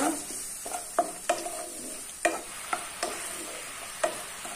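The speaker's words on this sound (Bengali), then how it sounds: "এটা দিয়ে আমি একটু নাড়াচাড়া করে নেব" Salt is stirred into a pot while making a jujube pickle, with a series of distinct spoon knocks and scrapes against the metal pot, spaced irregularly over a faint background hiss.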